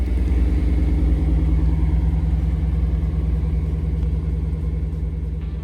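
A Lexus IS 500 V8 with its stock exhaust holds a loud, steady, deep rumbling drone, even and continuous with a faint pulsing texture throughout.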